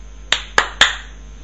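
Three sharp hand claps land in quick succession, close and loud, each with a short room decay, over a quiet background hum while someone tests a clap-to-find-phone app on an Android handset.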